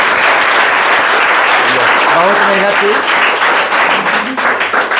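A classroom crowd keeps up strong, continuous applause for a student named Rimjhim at a school prize distribution, while someone speaks briefly over the clapping.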